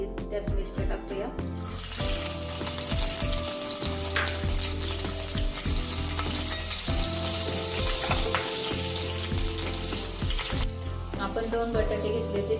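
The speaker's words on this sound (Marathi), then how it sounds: "तेल तापलं की त्यात मिरच्या टाकूया।" Green chilies drop into hot oil in a kadhai for a sabudana dish, bursting into a loud, steady sizzle after a few quiet clinks and continuing for about nine seconds before fading back to softer clatter.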